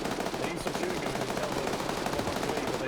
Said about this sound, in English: The gunfire's gonna distract.